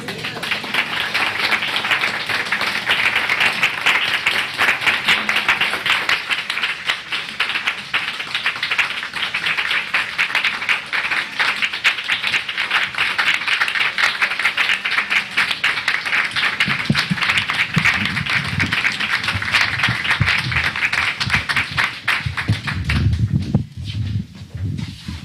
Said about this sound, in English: Can we give Reverend Ian another round of applause?